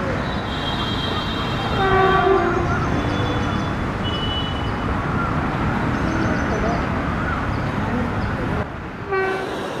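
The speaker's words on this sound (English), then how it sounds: "capture an electric loco passing through Malleshwaram" An electric locomotive rumbles loudly past at Malleshwaram in India, its horn sounding in short blasts over the steady roar of the passing train.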